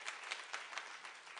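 A church congregation claps for Jesus during a sermon, a faint, distant patter of many hands with a few slightly stronger claps standing out.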